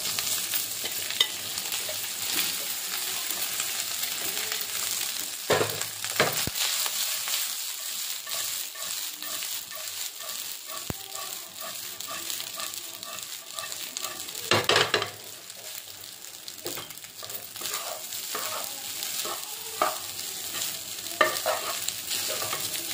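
Jeera rice tossed and fried in a hot pan, a steady sizzle with repeated scraping stirs and clinks of the spoon running throughout, fairly close and continuous with no talking.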